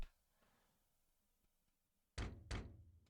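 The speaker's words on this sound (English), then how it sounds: "Knock, knock." Two firm knocks on a door in the Ace Attorney Chronicles video game, loud and close, landing in quick succession after a near-silent stretch.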